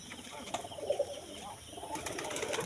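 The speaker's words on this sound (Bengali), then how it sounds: "সব কবুতরের গাছে আছে, এই যে এইসব গাছে বসে আছে" Pigeons perched in trees beside a wetland fish enclosure in Magura give soft, low cooing calls in a few short bursts over steady outdoor ambience, moderately distant.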